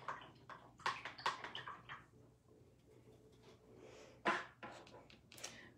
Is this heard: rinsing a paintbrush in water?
yes